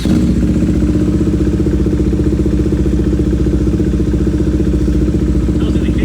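A KTM Duke 390 single-cylinder motorcycle runs close by at a steady idle, its rapid, even thumping carrying a mechanical clatter throughout, with no talking.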